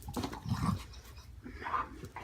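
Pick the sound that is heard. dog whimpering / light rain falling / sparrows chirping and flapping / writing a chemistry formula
dog whimpering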